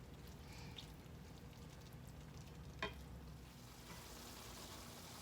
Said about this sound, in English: let those onions start cooking and softening up and all those flavors blending together